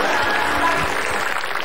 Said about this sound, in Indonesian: Tepuk tangan buat Kevin Aprilio.